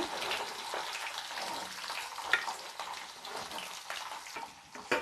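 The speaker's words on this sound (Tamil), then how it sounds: "கடுகு பொரிஞ்சோடனே ஒரு 4 பூண்டு உரித்து வச்சுருக்கிறேன், அதை போட்டுக்கலாங்க" Mustard seeds and garlic cloves frying in hot oil in a pan for kaara chutney, a steady dense crackling sizzle with scattered sharp pops throughout, close and fairly loud, no voices.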